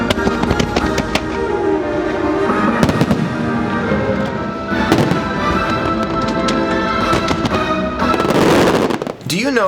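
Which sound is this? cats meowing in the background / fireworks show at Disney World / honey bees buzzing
fireworks show at Disney World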